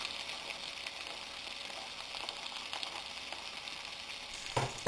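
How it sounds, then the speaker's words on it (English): Onions and red chilies fry with mustard seeds in hot oil, a steady broadband sizzle that continues throughout, with a brief clatter near the end. "When the mustard seeds start popping, add the red chilies and the onions."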